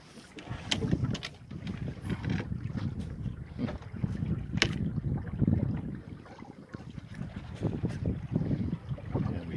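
A sailboat cruising under sail, carried by constant rushing wind and water noise with gusty buffeting against the microphone; hull slaps and splashes come through at irregular moments, and no one speaks.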